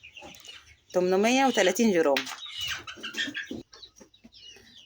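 Fayoumi and Egyptian chickens on a farm being weighed at 32 days old, a loud close cluck or squawk with a rising pitched call, followed by softer scattered clucking under someone speaking.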